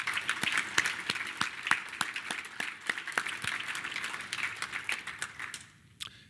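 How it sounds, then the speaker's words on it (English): An audience at a breakfast forum event gives a round of applause for sponsors, with distinct individual claps audible in a moderately sized crowd, fading out at the end. "Let's have a round of applause for all of our generous sponsors, please."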